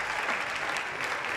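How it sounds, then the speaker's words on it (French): A studio audience at a comedy show gives dense, sustained applause, a loud even roar of many clapping hands with no break. "Applaudissements s'il vous plaît."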